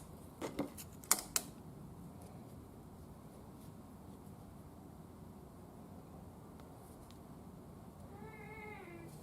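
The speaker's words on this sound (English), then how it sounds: "What you meowing about?" Cat meowing indoors, one soft drawn-out meow near the end, preceded by a few sharp clicks and taps against a quiet background.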